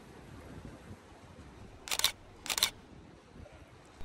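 A camera shutter snaps twice in quick succession on a bridge above the sea at Montego Bay, Jamaica, two crisp, close clicks about half a second apart over quiet outdoor background.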